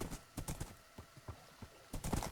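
Horse hooves clopping in a video game, a quick irregular series of close, muffled clip-clop steps, faint overall.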